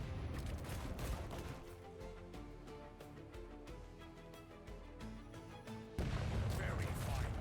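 Ship cannons booming in the pirate game Rogue Waters, a dense run of repeated blasts and crashes layered over game music with someone talking throughout, the barrage swelling louder near the end.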